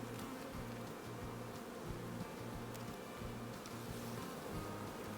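Honey bees in a hive buzz steadily as a frame is shaken to knock them back inside, a continuous low insect drone with a repeating pulsing hum through the whole stretch.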